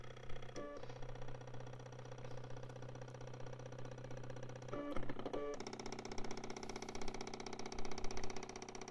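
A Colemeter mini laser engraving machine runs with a steady mechanical hum and whir, broken by brief shifts in tone as its motion changes, continuing unbroken near the listener.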